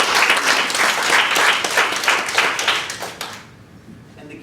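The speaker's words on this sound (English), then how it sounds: "Can we give both of you a round of applause?" Audience applause at a storytelling coaching event, dense and steady clapping from a crowd for about three seconds before it fades out.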